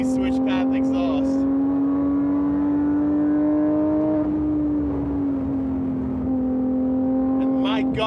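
A Porsche 991.2 GT3 Touring with an AWE SwitchPath exhaust, a loud steady engine drone with a strong exhaust tone holding near constant revs, with a voice speaking briefly at the start and end.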